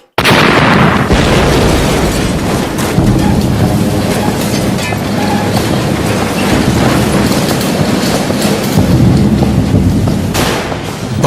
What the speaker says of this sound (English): Both charges ignited, even though one had no detonator.